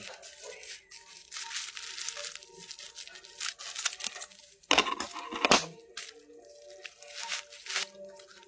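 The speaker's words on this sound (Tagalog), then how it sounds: "So, gamitin natin siya ng gunting." Scissors cut open a cheap plastic package holding a barber's razor and blades, giving crinkling plastic, a few sharp snips and crunches, and a louder burst of cutting near the middle, close and untalked over.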